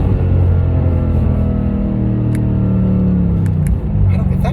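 Mercedes-Benz E55 AMG, a 14-year-old car, bone stock apart from a 3-inch catback exhaust, accelerating hard up a highway on-ramp toward 100: a loud, continuous low engine rumble holds throughout, with rising harmonic tones and a brief dip near the end as it shifts.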